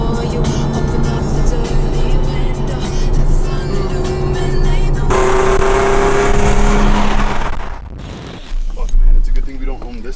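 A car that resembles a 2020 Toyota Supra drives past, its engine droning loud and near, shifting pitch midway before fading off, with people talking over it.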